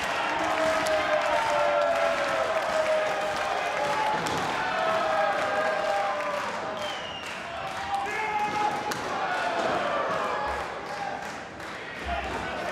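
A wrestling crowd in an arena cheers for Pentagon and Drago, a dense steady roar of voices with chants and occasional thumps from the ring, continuous throughout with a commentator talking over it.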